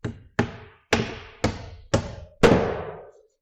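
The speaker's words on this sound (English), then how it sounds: "it's a lot of nailing" Hammer strikes driving nails into wooden roof sheathing, six sharp ringing blows with short decays, evenly spaced at roughly half-second intervals, close and loud with no talking.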